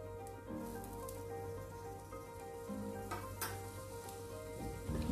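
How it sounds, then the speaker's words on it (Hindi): A radish paratha sizzles on a hot griddle with ghee, giving a continuous, close crackle with scattered sharp pops and spatters, heard alone with no voices. "और पलटने के बाद में इसमें हम घी लगा देते हैं।"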